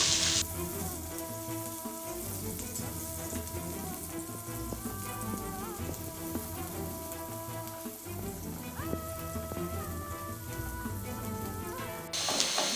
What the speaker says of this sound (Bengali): এক কাপ পেঁয়াজ কুচি দিয়ে দিচ্ছি দিয়ে আমি হালকা বাদামি কালার করে ভেজে নেব